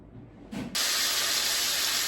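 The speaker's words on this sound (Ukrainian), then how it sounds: "Перевертаю, добре обжарюю до золотої кориночки." Rabbit meat frying in oil in a pan, a faint sizzle that jumps to a loud, bright, steady hiss as the pieces hit the hot oil, with no talking.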